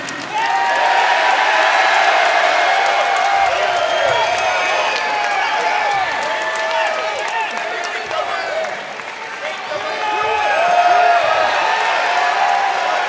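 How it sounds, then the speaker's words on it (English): A rowdy wrestling crowd at the NWA Samhain event fills the space with sustained clapping, cheering and shouting, loud and dense from start to finish, swelling again near the end. "This is a rowdy crowd."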